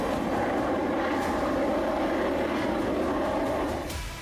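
A Sukhoi Su-30 MKI fighter jet of the Indian Air Force roars in a steady, broad, continuous rumble that holds at an even level before easing slightly at the end.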